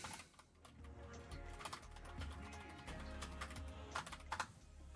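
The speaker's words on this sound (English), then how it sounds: "This keyboard sounds horrific." Rapid, quiet clacking of a computer keyboard being typed on at a gaming PC, a steady stream of light key clicks over a low hum.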